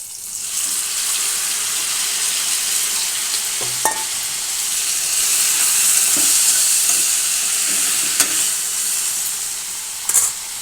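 Tomatoes go into a pan of softened onions frying for tomato pachadi, bringing a steady close sizzle with occasional clicks and scrapes of a spoon, and no voices.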